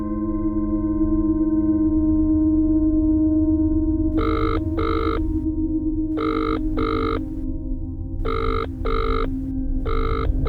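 A telephone rings repeatedly and goes unanswered, four double-ring bursts spaced evenly over a steady low hum, loud and close with no voices.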